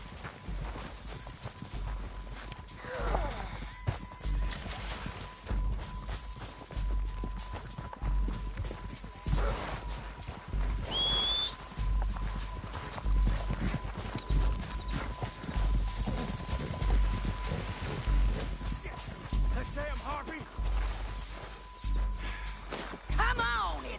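Horses clip-clop at a walk in the Mortal Kombat 11 game, a steady uneven hoof rhythm running throughout under frequent spoken dialogue and ambient game sound.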